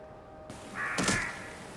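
Crows cawing in the Skyrim game running the Nolvus modlist, a loud harsh call rising out of quiet ambient background, one prominent caw mid-way with no talking.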